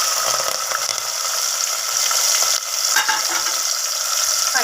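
Mustard seeds, cumin, shallots, dried chillies and shahi jeera frying in oil, a loud continuous bright sizzle close up, with faint stirring scrapes and no talk.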